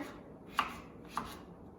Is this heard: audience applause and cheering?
no